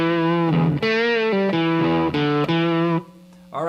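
Distorted electric guitar plays the main riff of a song, a loud, continuous run of sustained, bending riff notes that briefly drops away near the end, with no talking.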